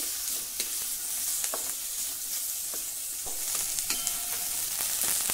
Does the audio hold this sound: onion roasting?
yes